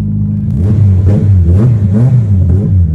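A Honda Brio fitted with a naturally aspirated K24 engine pulls hard under acceleration, its loud, close engine drone rising and wavering in pitch with a rough rumbling undertone and no voices.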